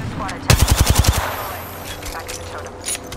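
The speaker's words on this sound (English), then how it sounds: "Shooting at us." Rapid automatic gunfire from an Apex Legends ranked match: a loud burst of about eight evenly spaced shots, then fainter distant pops and game noise with no talk.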